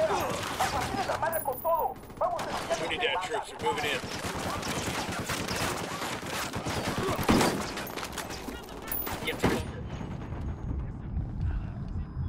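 Heavy gunfire erupts in Ghost Recon Wildlands, a tactical shooter set in snowy terrain, with dense bursts of automatic fire and sharp shots that fade out near the end.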